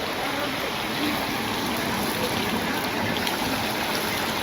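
Steady rain falls outdoors beside a cooking fire, a dense, even hiss of drops close by that never lets up, with a faint voice murmuring under it.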